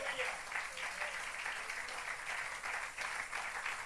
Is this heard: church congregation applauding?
yes